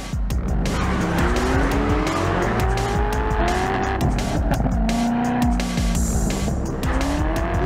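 A Corvette Z06 racing hard between piles of steel shipping containers, its loud engine revving and tires squealing and skidding continuously through the turns.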